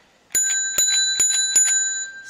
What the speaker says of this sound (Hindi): साइकिल की घंटी की आवाज आती है।